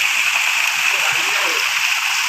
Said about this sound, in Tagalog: May patapon pala ng tubig din eh.